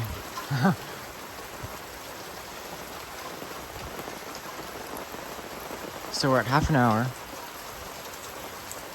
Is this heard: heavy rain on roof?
yes